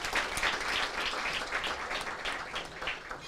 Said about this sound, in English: Please, a round of applause for Keyshawn.